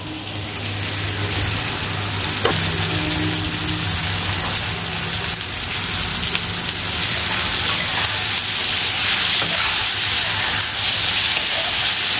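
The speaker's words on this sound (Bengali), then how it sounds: "চিকেন দিয়ে এটাকে একসঙ্গে ফ্রাই করবো" Boneless chicken breast fries in a pan with a steady, close, hissing sizzle that holds evenly throughout, with a faint tonal hum underneath.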